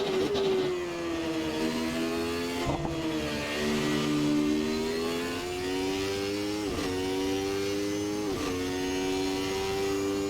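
McLaren MP4/8 Formula One car in Assetto Corsa, its high-revving engine screaming continuously with rising pitch sweeps and sharp drops at each gearshift, loud and close throughout with no talking.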